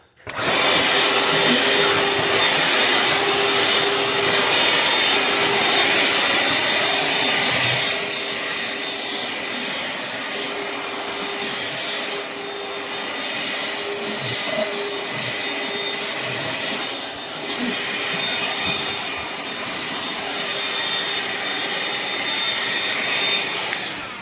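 A Ridgid R860902B vacuum runs steadily and loudly for the whole stretch, a constant whining roar with a slight dip partway through and faint knocks of debris or handling underneath.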